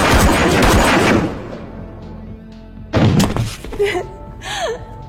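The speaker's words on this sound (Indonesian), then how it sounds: "Yasuke yang ternyata masih hidup, berhasil menembak Tuan Honda" A gunshot in a yakuza film scene: a sharp, loud blast cuts through after a stretch of noisy action, followed by brief strained vocal sounds.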